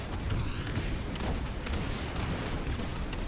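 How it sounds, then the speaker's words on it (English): A-wing barrage rockets firing in the Star Wars Squadrons video game, a dense continuous rumbling roar of rapid launches and blasts that stays loud and steady throughout. "It just fires the barrage rockets till you run out of ammo."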